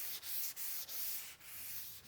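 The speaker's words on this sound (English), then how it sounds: "So I'm sanding right through the finished paint, right down till I see the primer start to appear." Hand sanding through finished paint down to primer with 220 grit sandpaper wrapped around a block, a close, steady abrasive hiss in back-and-forth strokes with brief gaps between passes.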